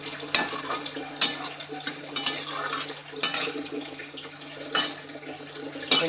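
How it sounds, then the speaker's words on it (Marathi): A spatula stirs hadga (agasti) flower greens, just salted, in a pan, making a series of scraping strokes about once a second over a soft steady background hiss, close and moderately loud, with no talk. "मीठ टाकलं मी आता हलवून दिली त्याला"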